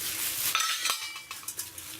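Stainless steel pots and lids clink and scrape as they are handled and nested together, with several sharp metallic knocks scattered unevenly over about two seconds, close and fairly quiet.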